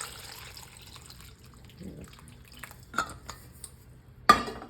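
Lemons being washed in salted water in a pot: soft sloshing and quiet clinks at moderate level, with a sharper splash and clatter near the end, no voices.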